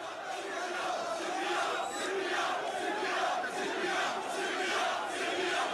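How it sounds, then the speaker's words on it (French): A large protest crowd in Algeria's hirak movement against Bouteflika chants a slogan in a dense, steady, rhythmic roar, with tear gas being fired nearby. "la foule se met à gronder un slogan"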